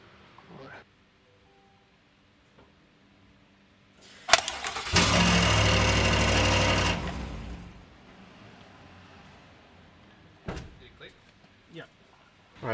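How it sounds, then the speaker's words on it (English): A Chevrolet Silverado with an upgraded exhaust cranks and fires up in the open, roaring loudly for a few seconds before cutting off. A door clunks before it starts, and small knocks follow afterward. "You only have to start the engine for a few seconds"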